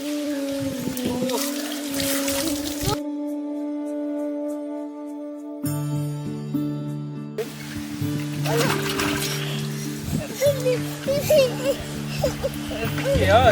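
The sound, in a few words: water being poured over a child during a bath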